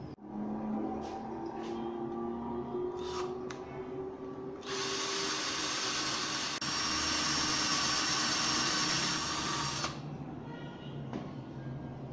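Power drill boring holes into wooden pillars for a homemade incubator egg turner, a whirring motor with shifting pitch that swells into a louder, harsher high grinding for several seconds midway, then eases back, close by with no talking.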